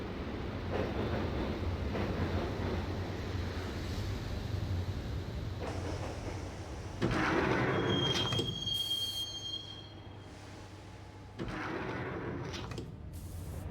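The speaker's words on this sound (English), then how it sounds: "the train doors had already shut behind me, and I was in for the ride" A subway train rides along in the 2001 video game Max Payne, with a steady low rumble and rattle, a high squeal of wheels partway through, and a clunk like a sliding door near the end.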